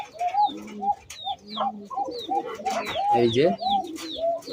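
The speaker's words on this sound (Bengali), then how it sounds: "এই যে কত সুন্দর একটি কবুতর।" Pigeons coo repeatedly in soft, rolling phrases close by, with a few higher chirps mixed in, while someone talks briefly over them.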